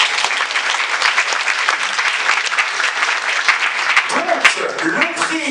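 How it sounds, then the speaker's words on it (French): Applause at the closing and awards ceremony of the Strasbourg European Fantastic Film Festival 2024, a steady, loud round of clapping from the audience, with a speaker's voice coming in over it toward the end. "Donc on peut encore les applaudir s'il vous plaît"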